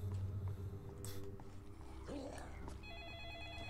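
An in-game telephone rings in the zombie game Escape Dead Island, a repeating electronic ring heard faintly over a dense, noisy game soundscape with some talk.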